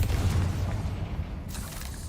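Bombarda and Confringo spell blasts in the Hogwarts Legacy video game, a dense low rumbling boom that fills the moment and then thins into a lingering roar, loud and close with no voices.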